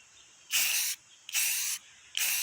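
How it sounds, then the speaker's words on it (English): Three short hissing bursts of spray paint spurt from an aerosol can with brief pauses in between as a large camper tongue is coated, close and steady. "I'm going to come over here and spray paint this some more."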